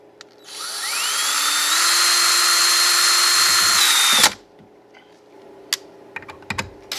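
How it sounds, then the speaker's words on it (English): A power drill whines at high speed for about four seconds, boring through a skull for a display mount, then cuts off, followed by scattered light taps and clicks. "we're going to take our drill bit and run it up through the hole"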